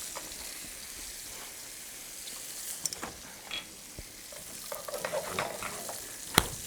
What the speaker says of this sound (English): you can see the halibut is starting to sear